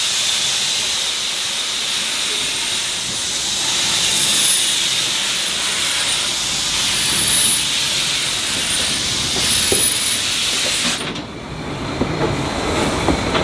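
A steam locomotive at a railway museum, a loud, continuous close hiss of escaping steam that swells and ebbs, then cuts off sharply near the end, leaving quieter rumbling.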